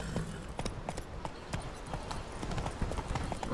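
Roach the horse's hooves trotting in Witcher 3, a quick run of clip-clop beats close by over a busy game background.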